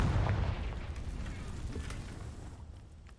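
Confringo fire spell blast in Hogwarts Legacy, a deep rumbling boom that starts strong and slowly decays over a few seconds, with no voices present.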